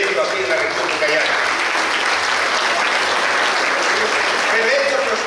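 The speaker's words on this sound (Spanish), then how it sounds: "un fuerte aplauso por organizar este importante evento aquí en la región de Ucayali" An audience at a regional business event in Ucayali, Peru applauds in a loud, sustained burst of clapping, with a voice faintly murmuring underneath throughout.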